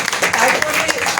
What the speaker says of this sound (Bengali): সবার এবার করতালি পেয়েছে।